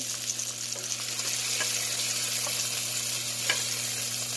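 Pork steak sizzles in a frying pan with a steady, close crackling hiss and a few faint clinks from handling.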